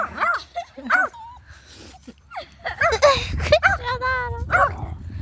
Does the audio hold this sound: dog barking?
yes